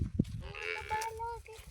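Buffalo calves moo close by in a farm setting, one drawn-out low call standing out over a rumble of background noise.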